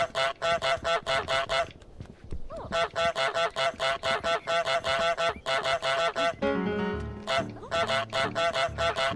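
Repeated honking from the goose in Untitled Goose Game, a steady train of loud, evenly spaced honks filling most of the stretch, broken by a short gap and a brief burst of other game noise.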